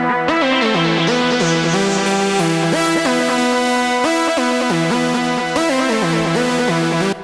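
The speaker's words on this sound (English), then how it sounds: "It's got a bunch of spring reverb and PT 2399 dirty delay." An acid-style synth sequence loops the same stepped riff over and over, soaked in spring reverb and gritty PT2399 delay, loud and continuous with a distorted, buzzy edge and no voices.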